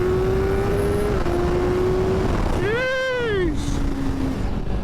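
A 2025 BMW S1000RR sport motorcycle accelerates hard, its engine whine climbing through the gears with a sharp rising and falling howl as it rushes past over wind noise.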